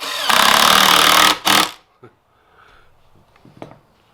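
A loud, close power drill whirs for about a second drilling a hole for drawers, stops briefly, then gives a short second burst before quieter handling noises.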